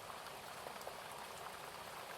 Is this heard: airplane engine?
no